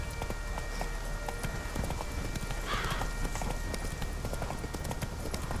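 Roach the horse clip-clops in a steady trotting rhythm of hooves in The Witcher 3 video game, continuous and moderately close throughout, with a brief whinny-like tone partway through.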